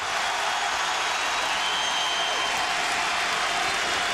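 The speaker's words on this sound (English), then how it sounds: "Here comes the crowd, too." A basketball arena crowd at an SIU vs Creighton game lets out a loud, steady roar of cheering and applause that fills the space without break and sounds close and dense.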